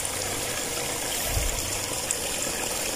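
Water of a sacred spring flows steadily, a continuous gushing and trickling rush at moderate level, unbroken by talk.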